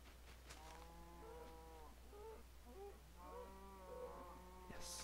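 A Minecraft cow gives several drawn-out, low moos in a row, moderately close over a steady background hum.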